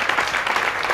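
Studio audience applause for a singer on a 1980 Italian TV show, a dense, steady burst of clapping that fills the whole moment on its own.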